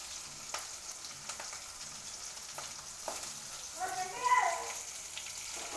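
Onions fry in a pan for alu upma, a steady close sizzle with faint stirring scrapes, with a brief flare of louder crackling near the end.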